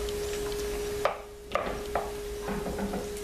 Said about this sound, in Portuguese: Deixa eu mexer aqui.